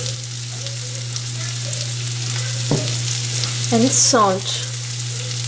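Finely chopped mango pieces with a pinch of hing cooking in a pan over a slow flame for pickle: a steady, even sizzle under a low hum, with a brief spoken phrase near the end.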